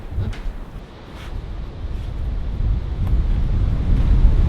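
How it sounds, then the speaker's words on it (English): Wind blowing outdoors, a steady low rumbling gust that buffets the microphone, building gradually in strength with no speech. "Oh, wind"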